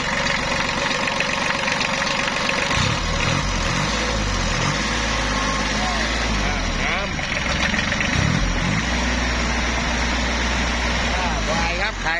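An old Japanese tractor's engine runs steadily and loudly up close, a continuous low throb with a couple of brief surges, while someone talks over it.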